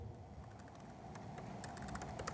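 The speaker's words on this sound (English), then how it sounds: "sorry, I'm typing only with one hand" Keys tapped on a computer keyboard with one hand, a steady scatter of light clicks over low background room noise, fairly quiet and close.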